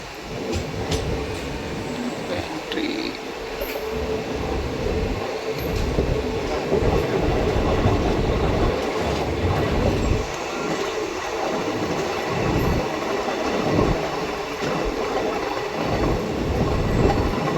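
Passing train at night in the Delhi area, coming from the Hazrat Nizamuddin direction, a loud continuous rolling rumble with rhythmic wheel clatter and faint squeals, close and steady throughout.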